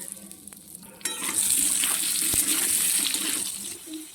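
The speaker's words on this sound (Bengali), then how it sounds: "এগুলো তুলে নেওয়ার পরই আলুগুলো ভেজে নেবো।" Pieces of potato drop into hot oil and a loud, steady sizzle of frying starts and continues close up.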